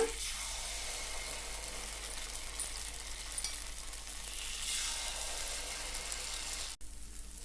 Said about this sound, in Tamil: இப்போ குழி பணியார கடாயில் மாவு நிரப்பியாச்சுங்க